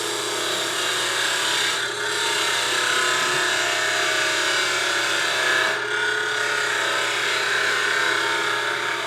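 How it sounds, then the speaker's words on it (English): A wood lathe hums steadily, and a spindle gouge scrapes a continuous, even cut across the underside of a wooden pepper mill cap. The sound is moderately quiet, with a slight dip in level twice. "Come in with my spindle gouge, cut the underside of the"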